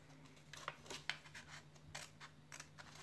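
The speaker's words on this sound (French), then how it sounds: "Hop, vous passez votre ciseau." Scissors snip through gasket paper for a flap-valve box joint, a few short crisp cuts and rustles close by with quiet pauses between, no voice over them.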